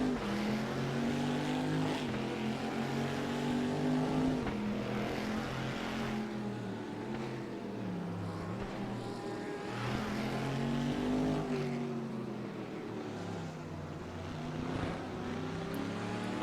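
Race car engines in the VR sim racing game RaceRoom drone and rev continuously, pitch rising and falling with gear shifts, several cars blended into a steady loud roar with no talk over it.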